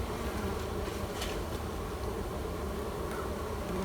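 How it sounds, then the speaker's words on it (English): Honey bees buzz steadily around a hive box during a walk-away split, a dense, continuous insect drone close by with no talking. "there are some extra bees here on this box that came off while I was moving"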